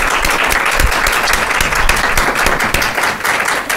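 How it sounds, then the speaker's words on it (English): Loud, dense applause from an audience closing a panel discussion, steady and sustained clapping throughout with no pause. "let's give our panel a big round of applause."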